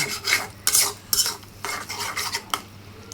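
Eggs for egg muri ghonto are beaten in a bowl, quick rhythmic metal-on-bowl scraping and clinking strokes in irregular bursts, close and fairly loud with no talk.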